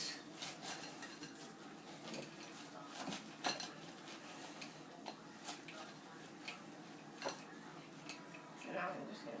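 Lucky crunch cookie dough with chocolate chips being mixed in a bowl, giving soft scraping and irregular clinks and knocks of utensil against bowl, fairly quiet and close, with occasional sharper taps.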